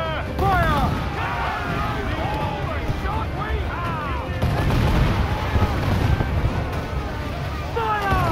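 Ship cannons booming in Assassin's Creed IV Black Flag during a naval battle, with repeated heavy blasts over wind and sea noise and whistling projectiles, plus a louder volley midway.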